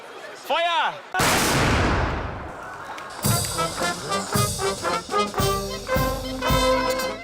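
A shouted command, then a single loud ceremonial salute cannon blast booms and rolls away, followed by a ragged volley of further booms and cracks from more salute cannons with voices in between.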